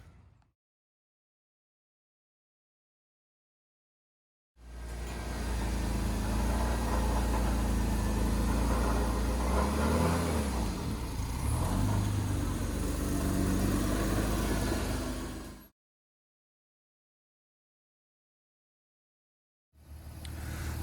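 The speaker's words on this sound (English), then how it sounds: "Waiting for them to pull the car out." A 1998 BMW 323is E36 runs as it is pulled out of a garage: a steady engine note about eleven seconds long, with a brief wavering swell partway through, between stretches of silence.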